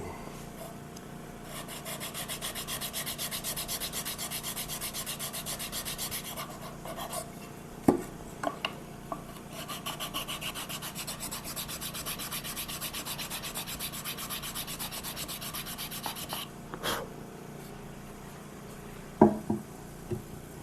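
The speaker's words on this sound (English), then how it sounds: "we can probably do that with a nice flat sanding block" Steady rhythmic rasping of a flat sanding block on wood at a guitar neck joint, long strokes back and forth, with a few knocks and pauses in between.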